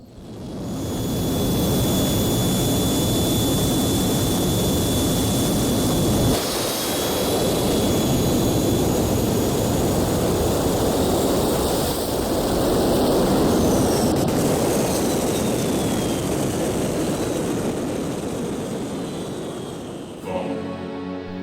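A jet-powered drag vehicle makes a run with a loud, sustained roar that holds for about twenty seconds, swells twice and fades near the end. No one speaks.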